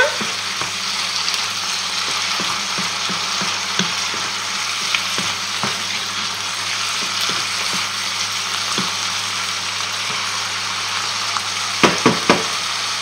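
Chicken and mushrooms sizzle and fry steadily in a pan, a constant close hiss with faint crackles and a few sharp clicks near the end, no voices.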